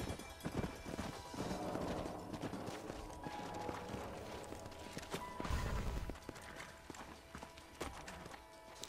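Horses in the Red Dead Redemption video game clip-clop along at a faint, uneven pace, hooves mixed with other game sounds.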